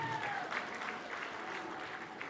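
Applause rises from guests at a wedding celebration, a dense, continuous patter of many hands clapping at moderate distance for a couple of seconds, with faint crowd murmur beneath.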